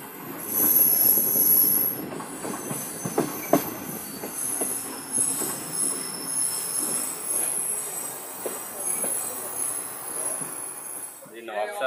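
Sir Syed Express private passenger train slowing at a station platform, its wheels giving a sustained high-pitched metallic squeal over rolling rumble and faint clatter, loud and continuous throughout.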